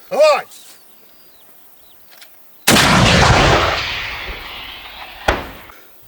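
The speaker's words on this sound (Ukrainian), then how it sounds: "відпрацьовуємо стрільбу кумулятивним снарядом по прямій траєкторії." A single powerful shaped-charge shell firing blast booms out at a military training range and rolls away slowly, followed by a second sharp crack a few seconds later.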